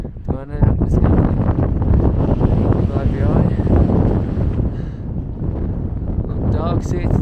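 Wind gusts across the microphone on a mountain trail of the Continental Divide Trail near Breckenridge, a loud, continuous rumbling buffeting, with someone talking over it throughout.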